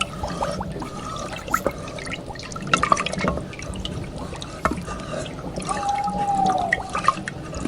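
Witch's cauldron sound effect for a Halloween sleep story, with soft bubbling, drips and trickling liquid in an irregular pattern, plus a brief rising tone near the end, moderately loud and steady with no voice.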